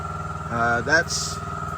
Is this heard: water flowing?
no